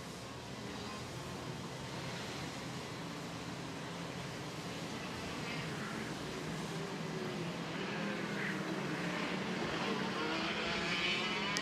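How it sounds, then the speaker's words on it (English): KZ2 racing kart engines drone continuously at a kart race final, a dense buzzing roar that holds steady and grows slightly louder, with a commentator's voice over it. "The kart's pushed into life and we are ready to race the 17-lap final."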